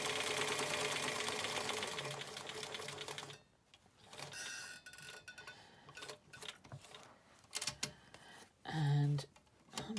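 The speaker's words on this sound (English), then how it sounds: "we're going to sew up the other side as neatly as we can" Sewing machine stitching up the second side of a fabric face covering, a steady close mechanical whirr for several seconds, then short bursts of stitching separated by pauses with quiet handling noises.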